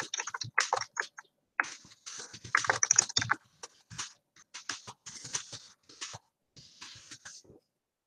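Typing on a computer keyboard, close and crisp, with irregular bursts of rapid key clicks separated by short pauses, alone without talk.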